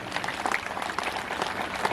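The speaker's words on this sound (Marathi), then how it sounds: "एकदा जोरदार टाळ्या वाजा महाराजांसाठी" Audience applause for the Maharaj after a devotional kirtan, a steady dense patter of many hands clapping at moderate distance for about two seconds, with no voices over it.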